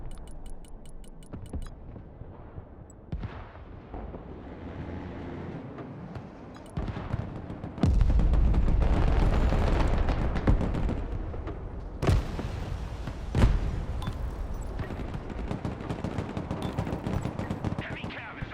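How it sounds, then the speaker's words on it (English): MLRS rocket artillery firing in the WW3 strategy video game Broken Arrow: a quieter stretch of distant gunfire gives way to a loud, sustained roar of launches with sharp cracks, voices heard in the mix. "MLRS ready to fire"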